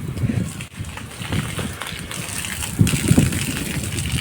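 Water gushes and splashes steadily over a tractor trolley being washed, a loud, continuous rush with sloshing surges throughout.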